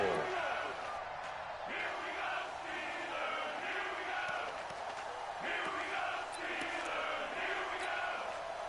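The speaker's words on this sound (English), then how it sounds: "the crowd getting into it as we come up on a big 3rd down" A football video game crowd roars steadily at a big third-and-goal moment, a dense wash of cheering with swells of excitement, while a commentator talks over it.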